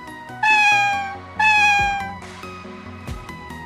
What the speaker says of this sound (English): With the sighting of our favourite black cat,